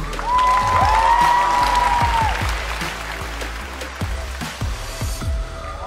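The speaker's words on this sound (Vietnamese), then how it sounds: "Một tràng pháo tay nữa cho tiết mục vừa rồi thưa các bạn" Studio audience applauds a duet by two singers on a TV music show, a loud burst of clapping and cheering at the start that thins and fades over several seconds, with sharp scattered claps near the end.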